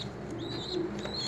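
Young Hünkari pigeons coo softly in a loft, low murmuring calls under steady background hum, with a few faint higher chirps.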